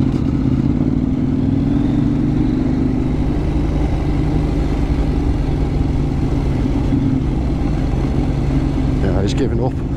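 A KTM 890 Duke R motorcycle riding over a Cumbrian mountain pass, its engine a loud, steady drone with wind buffeting throughout, and a rider talking over it.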